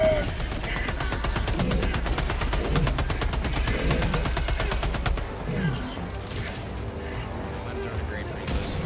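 Rapid, evenly spaced automatic gunfire from Helldivers 2, aimed at a charger, pours out for about five seconds, then fades into rumbling battle noise, with voices talking over it.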